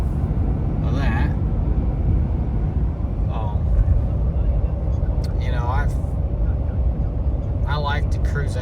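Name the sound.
2023 Ford F350 high output truck driving on highway while towing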